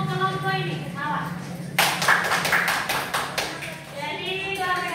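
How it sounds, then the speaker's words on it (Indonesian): A group of students gets a round of applause in a classroom, a burst of clapping that starts abruptly midway and carries on for about two seconds, with the teacher's voice heard before and after. "tepuk tangan dulu kelompok ini"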